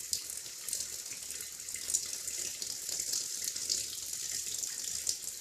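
Shower water running steadily at a swimming school, a continuous hiss of spray that stays fairly constant throughout with no voices.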